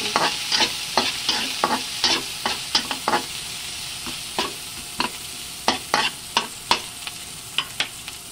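Ginger and garlic sautéing in a pan until golden for sweet and sour tilapia, a constant sizzle broken by a regular run of sharp spatula scrapes and knocks against the pan, close up, no talking.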